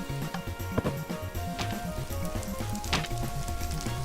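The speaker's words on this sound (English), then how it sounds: "you basically burn her house to the ground" A house catching fire from a stove in a Minecraft Undertale map, a steady crackling sizzle of flames under a looping low game melody, with a few sharper pops standing out.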